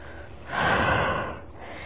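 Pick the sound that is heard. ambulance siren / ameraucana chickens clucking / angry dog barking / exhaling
exhaling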